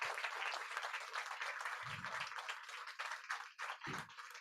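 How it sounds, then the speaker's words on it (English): Audience applause for bhajan singers and a musician at a devotional gathering, sustained clapping from a crowd, fairly quiet and distant, with a couple of low thumps partway through. "a round of applause of our bhajan singers and the musician"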